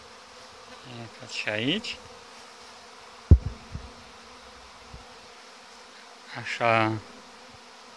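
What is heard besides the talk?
young honeybees flying at the hive front in August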